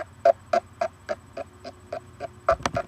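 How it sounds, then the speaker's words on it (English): An old computer ticks steadily, repeating about every quarter second over a faint electrical hum, close and fairly quiet, ending in a quick cluster of clicks. "That's the sound of Caitlin's computer"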